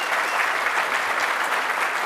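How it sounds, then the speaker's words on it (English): A conference audience applauds a presenting team at a tech event, steady dense clapping filling the whole short stretch at an even, sustained level with no voices standing out. "Everybody give them a round of applause"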